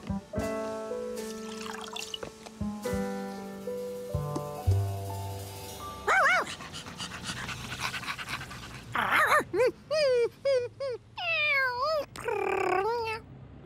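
Cartoon dogs and a cat beg for lemonade with soft panting, whimpers and rising meows, short bursts crowding together toward the end over light background music, with no voices speaking.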